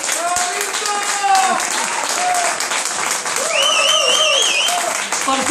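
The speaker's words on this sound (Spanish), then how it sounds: "te retribuyen con este aplauso para vos" Audience applause at a folk music peña in Argentina, a steady wash of clapping throughout with a voice speaking and whistle-like tones rising over it partway.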